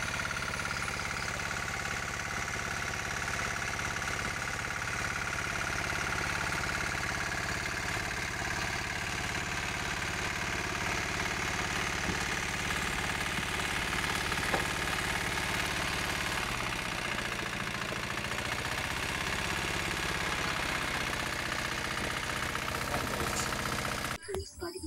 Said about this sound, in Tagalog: ganong proseso lang ang pagpaandar ng single cylinder na makina